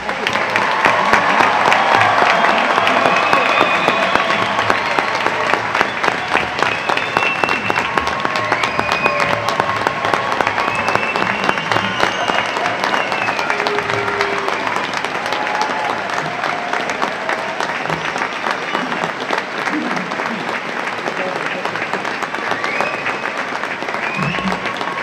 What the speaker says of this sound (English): Please join me in giving all of our graduates a well-deserved round of applause.